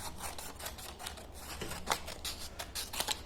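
Scissors cutting a strip of paper, close and fairly quiet, a quick series of snipping and rustling strokes running steadily throughout.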